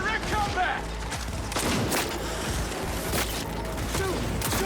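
Gunfire crackles in Cyberpunk 2077 combat, a rapid run of shots and impacts mixed with shouting voices and game effects, loud and busy for the whole stretch.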